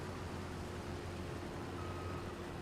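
A baler in Farming Simulator 25 gives off a steady electronic beep that drifts along with constant truck-like engine noise. The whole passage sits at a low, even level with no voices.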